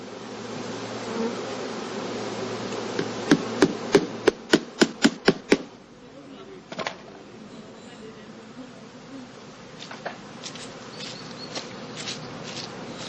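Homemade wooden package crates for bees are hammered on a farm: a quick, evenly spaced run of about eight sharp blows, then a few scattered lighter taps, all over a steady background buzz of insects.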